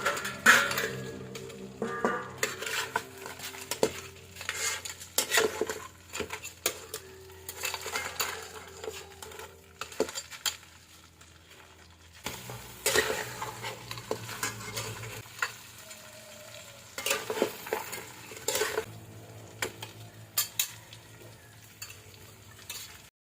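A spoon stirs and scrapes steamed crabs sautéing in buttered garlic in a pan, with repeated clattering strokes and a soft sizzle that come in bursts through a long stretch without speech.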